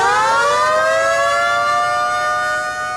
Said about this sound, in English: The siren warns the city of Bradford to brace themselves for blowdown.